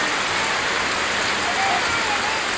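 Heavy typhoon rain pours steadily in Bohol, a dense, loud, continuous hiss with no breaks.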